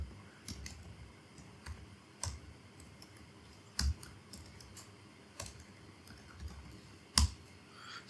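Scattered, irregular keystrokes on a computer keyboard while typing terminal commands, quiet clicks with a few sharper taps, close by and without talk.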